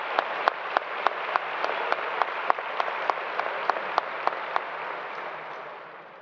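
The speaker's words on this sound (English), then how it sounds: "Round of applause, please." Steady applause from a high school graduation crowd in an auditorium, even and sustained with a few sharp individual claps standing out, fading slightly at the end.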